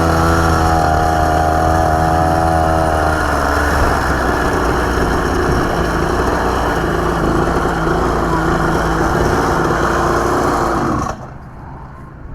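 Mini superbike motorcycle engine running loud and close, a steady buzzing drone that rises in pitch briefly at the start, then cuts off abruptly near the end.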